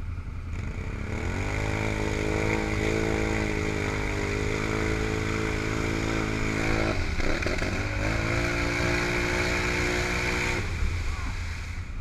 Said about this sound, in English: Both your tires are spinning.